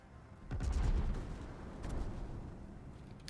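Gunfire from the Schlieffen warship in the video game World of Warships, a muffled low boom followed by scattered distant shell reports, fairly faint overall.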